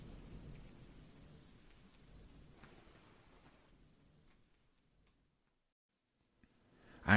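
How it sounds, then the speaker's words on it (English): A thunderstorm sound effect with steady rain patters and rumbles softly, fades away into near silence, then a sudden loud crack of thunder bursts in at the very end; no voices. "Come out of the storm."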